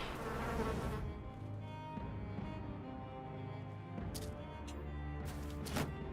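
Swarm of bees in the game Battle Brothers, a soft droning buzz with a harmonic hum that holds steady throughout, broken by a few brief sharp hits toward the end.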